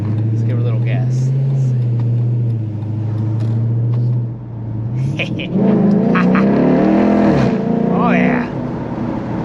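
Dodge Magnum SRT8 engine with a low idle drone, then a rising rev that climbs and falls, heard up close under a voice speaking briefly.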